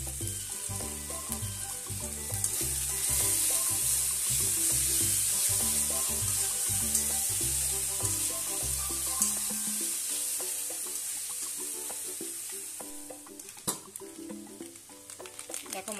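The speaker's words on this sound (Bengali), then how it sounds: "দেখো মশলা ভাজতে ভাজতে এর মধ্যে তেল ছেড়ে দিয়েছে" Spice masala with salt and turmeric sizzles steadily in hot oil in a pan for a jackfruit curry, a continuous close hiss over background music that fades partway through.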